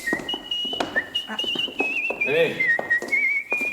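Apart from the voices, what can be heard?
whistling bird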